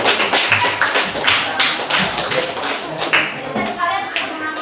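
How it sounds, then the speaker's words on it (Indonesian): A classroom bursts into applause for a group, with a dense, steady clatter of many hands clapping close by for the whole stretch. Faint children's voices sit underneath. "Tepuk tangan untuk kelompok 3."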